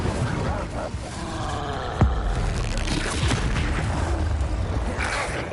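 An Incendio fire spell is cast in Hogwarts Legacy, giving a rough, roaring rush of flame with a sharp thump partway through, at moderate loudness over a steady rumbling background.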